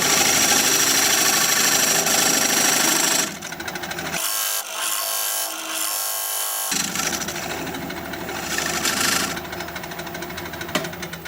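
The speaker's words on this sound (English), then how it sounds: "Now I'm going to use my dovetail tool to create a dovetail on the side of that recess." Wood lathe turning a butternut blank while a dovetail tool cuts a dovetail into the side of a recess: a loud, continuous harsh scraping and whirring with a shift in tone partway through.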